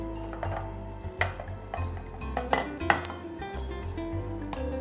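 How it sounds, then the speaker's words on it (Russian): Fried onion spooned onto a pie filling, soft scraping and light clinks of a utensil against a dish, close and quiet over a steady low hum. "Так, теперь выкладываем лук."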